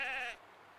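A sheep bleats once in the video game Boku no Natsuyasumi 3, a short wavering cry that is loud and close, then breaks off into quiet background.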